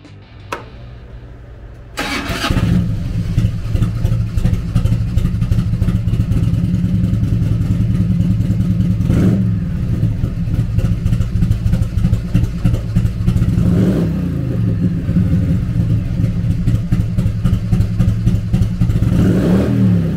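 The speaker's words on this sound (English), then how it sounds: "Powered by an 81 cubic inch V-twin motor, the Road King puts 67 horsepower and 78 foot-pounds of low-end torque" A 1994 Harley-Davidson FLHR Road King with an 81 cubic inch V-twin cranks briefly, fires up, and settles into a loud, lumpy idle, broken by several sharp throttle blips that rise and fall, with no talking.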